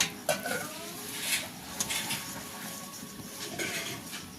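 Cauliflower paratha dough being kneaded with water in a bowl, giving soft, intermittent squelching and scraping touches with a few light clinks, fairly quiet and steady throughout without speech.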